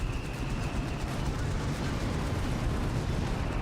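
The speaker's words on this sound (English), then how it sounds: "And the Vespa counter barraging." An artillery counter barrage in Company of Heroes 3 rumbles as a dense, continuous roar of distant shelling and bursts, running under a commentator's talk during a 2v2 tournament match.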